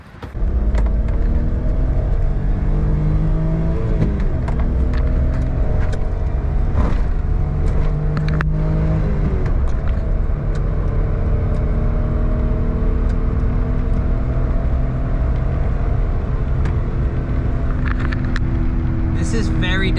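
A Suzuki Alto Works HA22S kei car driving home after boost leak, wastegate and bypass valve repairs, its small engine droning steadily from inside the cabin with rising and falling revs through gear changes.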